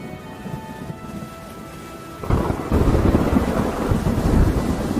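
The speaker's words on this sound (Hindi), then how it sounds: "देखो देखो बाहर कितनी जोर से बारिश हो रही है" Heavy rain falls outside a farmhouse before dawn as a thunderclap breaks in, a deep rumbling roll that swells loud over the steady downpour and keeps growling.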